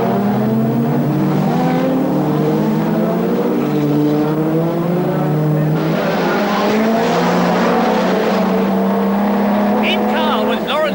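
Touring cars from the 1989 BTCC round at the Birmingham Superprix street circuit race past with loud, continuous engine roar and shifting revs throughout, building to a brief squeal near the end, while a commentator talks over them.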